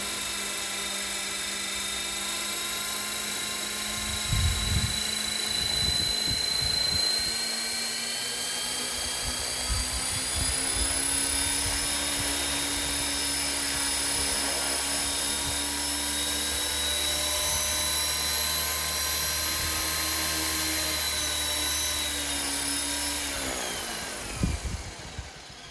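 A Jczk 450 RC helicopter hovers outdoors on a windy day, its steady high-pitched rotor and motor whine droning continuously with shifting tones, plus a few gusty bumps near the start and end.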